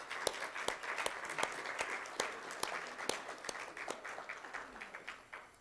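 A round of applause at a medical school reunion breakfast, sparse individual claps rising into a quiet, scattered patter from a modest crowd.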